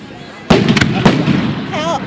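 Fourth of July fireworks over Margate, New Jersey burst loudly close overhead in two sharp booms with a crackling rumble between them, and a voice is briefly heard near the end.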